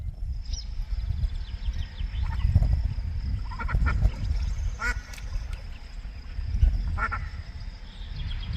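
A duck gives several scattered, fairly faint quacks over a steady, rumbling outdoor background, with no voices.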